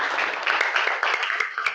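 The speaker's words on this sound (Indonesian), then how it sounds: "Ya, tepuk tangan dulu." A classroom of students claps for a student group, a short burst of close, somewhat thin applause from a modest number of hands, with voices mixed in.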